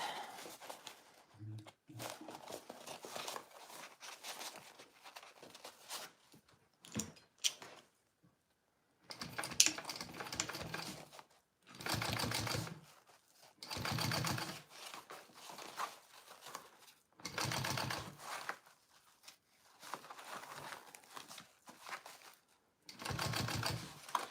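A sewing machine top-stitches a Louie garment in short, quiet bursts of rapid mechanical chatter separated by brief pauses, with occasional soft talk in between.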